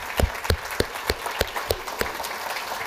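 Sparse, separate claps ring out at a steady pace at a data science talk, about ten sharp hits over a murmur of room noise, more like slow hand claps than full applause.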